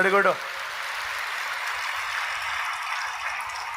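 A church congregation claps hands in worship, a steady, dense wash of applause that continues evenly after a brief voice at the start.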